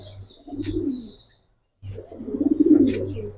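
Giribaj pigeons coo in a loft in two bursts of low throaty rolling coos nearby, separated by a brief silence, the second longer and louder.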